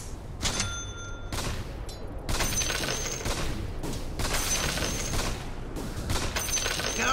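Rapid gunfire from the Dota 2 video game, several dense bursts of shots separated by short pauses, loud and close, with crackling impacts mixed in.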